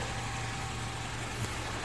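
A 2015 Mitsubishi Outlander Sport engine running at idle, giving a quiet, steady low hum with no talking.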